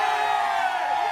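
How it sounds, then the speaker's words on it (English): A crowd-cheering sound effect plays loud and continuous: a dense wash of many voices yelling and whooping "yay", with no pauses, over a short stretch. "crowd yay applause"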